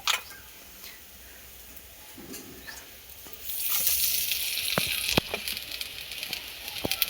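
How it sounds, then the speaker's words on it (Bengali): Lentil fritters (dal bora) frying in oil: quiet at first, then a fuller sizzle and spatter swells up midway, with a few sharp utensil clicks over the top. "আর এদিকে মায়ের বড়া ভাজা হচ্ছে"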